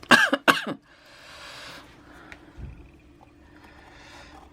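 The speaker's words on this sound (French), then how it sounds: "Désolée pour la toux" A woman coughs twice in quick, loud bursts up close, followed by a faint throat sound and quiet room noise.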